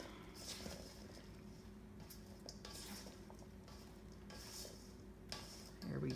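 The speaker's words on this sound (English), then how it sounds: "we're supposed to mix all of this up together just to get it incorporated" A spoon stirs blueberries, rosemary and other breakfast pudding ingredients in a bowl, giving a soft, quiet, continuous scraping and clinking with a steady low hum behind it.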